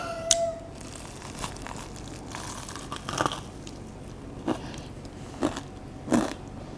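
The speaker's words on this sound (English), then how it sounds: "It's really crunchy and crispy, and the bun is way less soggy." Crisp bites into a Chick-fil-A style fried chicken sandwich, several separate crunchy bursts spaced a second or so apart, close and clear over a quiet room with soft chewing between them.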